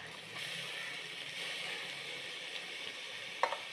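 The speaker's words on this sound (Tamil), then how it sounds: "தக்காளியும் நல்லா வதக்கணும்." Tomatoes with mint, coriander and ginger-garlic paste sauté for mushroom biryani, giving a steady hissing sizzle that ends in one sharp utensil knock.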